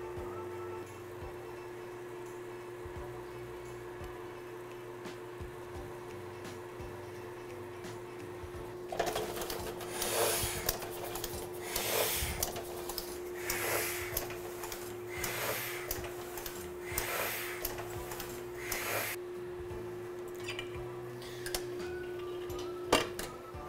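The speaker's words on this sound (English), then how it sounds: "Lock the chase into place on the press and ink up our rollers and cylinder." A letterpress printing press runs in a quiet room, faint hum at first, then a series of rhythmic mechanical clacks and whooshes as the rollers and cylinder turn, settling back to a low hum.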